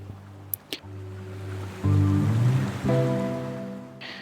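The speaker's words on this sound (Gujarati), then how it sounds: "આ સુંદર જગ્યા હાથબ બીચ તરીકે જાણીતી છે" Sea waves at Hathab Beach near Bhavnagar, heard as a steady wash of surf with sustained tonal sounds layered over it, swelling louder partway through.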